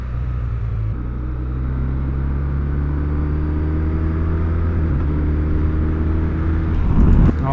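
A motorcycle rides along a road, with a steady engine rumble and road noise throughout, rising slightly near the end.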